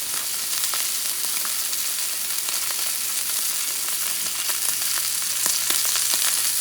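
Beef tenderloin sears in a cast-iron pan at medium-rare heat, giving a steady, dense sizzle that stays close and even throughout, with small pops and crackles scattered across it and no talking.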